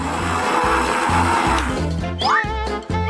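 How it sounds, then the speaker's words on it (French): An electric kitchen blender runs loud and close, mixing ingredients including alginate for a Coca-Cola food hack; the motor whirs steadily with a pulsing, churning rhythm and rising whine near the end. "Alors le mixeur."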